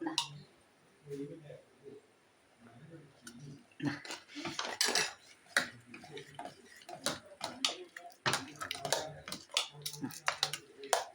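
A spoon stirs a spoonful of mix into a pot of Karkidaka kanji, with light repeated clinks and scrapes of metal on the pot, and a person speaks over the stirring.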